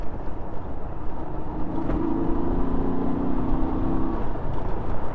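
A car engine braking on a downhill descent, producing a steady low road rumble. A strained mechanical whine swells in the middle stretch and then fades back into the drone.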